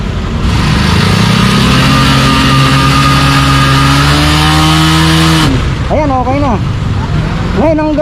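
A motorcycle engine on a roadside repair, stuck after its chain jammed, revs hard and loud up close for several seconds before dropping back to idle, with voices talking over it afterward.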